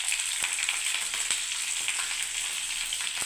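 Peanuts and green chilli fry in hot oil for a beetroot and carrot mixed vegetable dish, giving a steady, bright sizzle with scattered crisp pops and a few stirring clicks, close and loud, with no voices.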